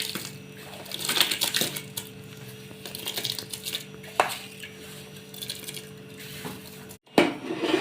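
Bhagar, or barnyard millet, is poured into a pot while making sabudana chakli, giving soft rattling and clinking against the metal with a few sharper knocks.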